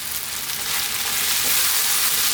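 Turmeric, chili, cumin and coriander powder fry in oil in a pan for an Indian-style lentil soup, a loud bright sizzle rising steadily while being stirred.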